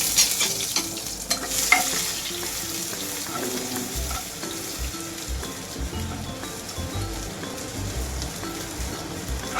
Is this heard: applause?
no